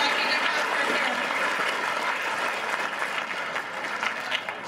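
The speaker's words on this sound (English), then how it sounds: "So if everybody can give Mo a round of applause" An audience applauds steadily and densely throughout at a grade 6 school winter concert, a continuous wash of many hands clapping that slightly thins toward the end.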